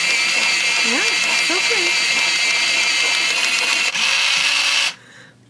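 An electric pencil sharpener grinds a colored pencil with a loud, steady whir that runs for about five seconds and then cuts off abruptly, while a voice speaks briefly over the noise.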